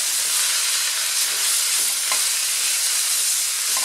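Vegetables sizzle and crackle in a frying pan as they are stirred with coarse salt, a steady bright frying hiss with faint scraping of the spoon, continuous and close, with no talking.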